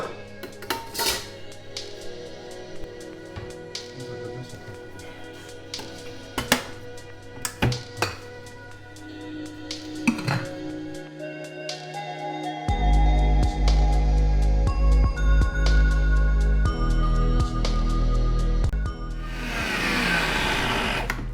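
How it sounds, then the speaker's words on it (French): A kitchen blender purees courgettes for a sugar-free, fat-free chocolate cake, starting with clinks and short bursts before a loud, steady whirring drone settles in for the second half, with no talking. "je vais commencer par mixer mes courgettes"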